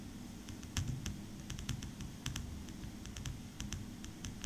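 Typing on a computer keyboard while filling in an Excel chart title, heard as a steady run of light, crisp key clicks with uneven pauses, close and moderately quiet over a low room hum.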